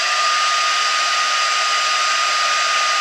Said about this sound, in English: I'm going to heat this a little bit to dry the ink.